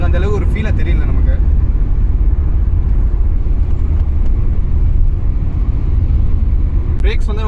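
A Mercedes C-Class E220d diesel cruising at 120 km/h, heard from inside as a steady, loud road and engine rumble with wind noise, while someone talks over it throughout.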